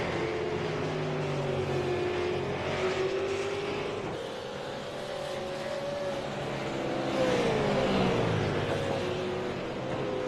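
Race car engines on a motor race broadcast, a steady high-revving drone with shifting pitch as cars pass, loud and continuous throughout.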